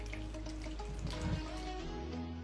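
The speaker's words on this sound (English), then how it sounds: "I'm adding real water here." Real water pours and splashes onto a flat earth model, a steady running, sink-like wash of liquid that holds at an even, moderate level throughout.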